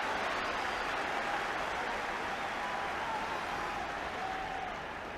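A large football crowd at Tottenham during a European Cup Winners' Cup tie against Bayern Munich, a steady dense roar of buzzing and applause that carries evenly throughout, distant and broad with no single voice standing out.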